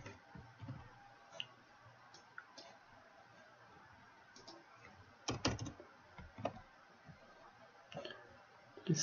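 Keystrokes on a computer keyboard while writing code for a Node JS test, with irregular light taps in scattered bursts and a few louder clusters, quiet and alone with no talk.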